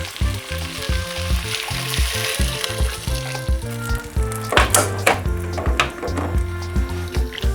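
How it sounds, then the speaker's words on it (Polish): Broth is poured over stirred vegetables, including peas, in a pot for a quick broad bean soup. A steady close sizzle and bubbling carries over a rhythmic background music track. "całość przemieszajmy. Zalewamy to bulionem"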